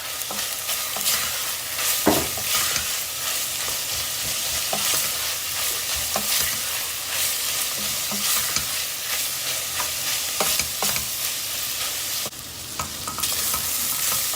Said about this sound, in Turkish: Soğanımızı da tavuklarla beraber kavurma işlemine devam ediyoruz.